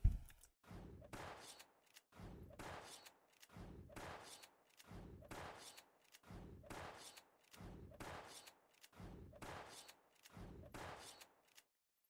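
Eleven bursts of rapid automatic gunfire from the video game GunZ, each about half a second long, repeat at a steady rhythm with short gaps and no reload pause between them, loud and close.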